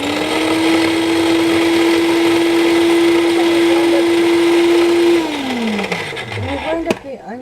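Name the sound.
electric chopper grinding onions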